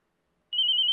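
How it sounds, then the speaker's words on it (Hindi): A phone rings with an incoming call, a steady repeating electronic trill that starts about halfway through and continues close and clear with no talk over it. "इसका फोन आ गया।"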